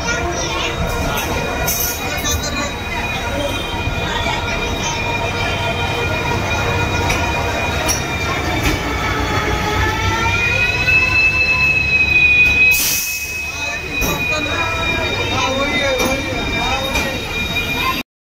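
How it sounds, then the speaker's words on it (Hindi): Passenger train from Mumbai pulling into a station, wheels squealing loudly and steadily for the whole stretch, with the rumble of railcars and a crowd murmuring on the platform. "ये आ गई हमारी ट्रेन जो कि मुंबई से आई है।"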